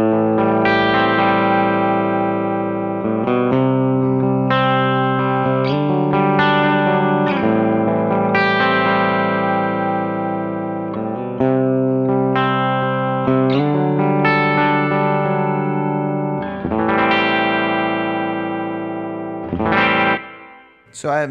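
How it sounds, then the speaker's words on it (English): Two electric guitars with a little FET boost play together with a wet, reverberant tone and light overdrive, steady and full throughout before trailing off at the end. "I have a little bit of reverb on both of them"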